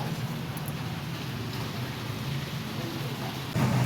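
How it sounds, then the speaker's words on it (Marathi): Heavy rain pouring steadily since early morning in Kolhapur during the Gauri-Ganpati festival, a dense even hiss that swells louder near the end, with possible distant thunder. "पाऊस इतका आहे ना भरपूर आहे पाऊस"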